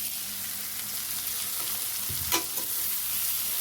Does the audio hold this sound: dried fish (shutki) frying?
yes